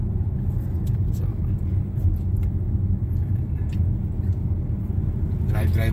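Inside a car driving on a road near Dryden, Ontario, a steady low engine and tire rumble holds throughout, with faint bumps and rattles in the cabin.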